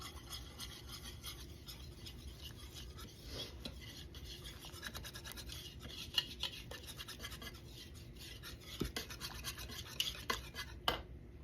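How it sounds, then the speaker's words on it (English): Flour is stirred into foamy yeast in a bowl for Rosca de Reyes dough. A steady soft scraping and rubbing continues throughout with occasional light clicks of the utensil, and no one talks. "we're going to add half a cup of flour to our yeast. Okay, we're going to mix this"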